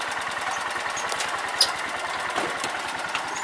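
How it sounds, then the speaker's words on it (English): A tractor engine runs steadily at close range with an even, rapid chugging pulse, loud and continuous throughout, with no talk over it. "So I'm going to jump on my tractor and follow him up."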